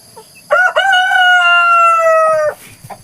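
A rooster crows once, loud and close, with a sustained cock-a-doodle-doo lasting about two seconds, while chickens cluck faintly around it inside a coop where the birds have been kept for six days.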